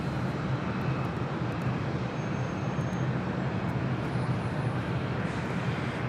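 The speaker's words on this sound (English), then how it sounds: "Southwest 609 coming in from Phoenix on a 737-700" A Southwest Boeing 737-700 arriving at Los Angeles International Airport from Phoenix produces a steady, broad jet engine roar that holds constant in the distance over several seconds, with no talking.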